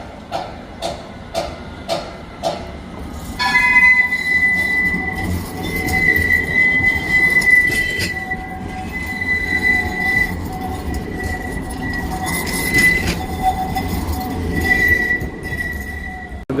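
A train in Istanbul passes close by, opening with a run of rhythmic wheel clicks and then a long, loud metallic wheel squeal over a steady rumble, with no talking.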